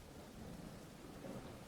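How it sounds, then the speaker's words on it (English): Steady rain falls with low, rumbling thunder throughout, a continuous storm ambience with no voices. "It is still raining."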